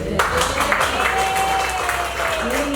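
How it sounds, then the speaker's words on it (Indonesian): Participants at a teacher training session give a round of applause, steady clapping spread through the room with a voice talking over it. "Tepuk tangan dulu ya"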